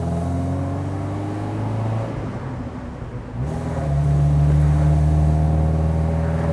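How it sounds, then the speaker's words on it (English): A 1987 Alfa Romeo Spider Twin Cam engine pulls steadily, dips briefly during a gear change, then comes back louder with a rising, rasping rev as the car accelerates. "The sound of that Alfa Twin Cam."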